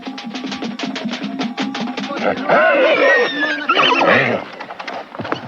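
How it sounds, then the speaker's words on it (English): Several horses neigh and whinny loudly and close by during a traditional Taboli horse fight, with shrill squeals rising over snorting and stamping hooves. "Here they are enjoying a favorite pastime, horse fighting."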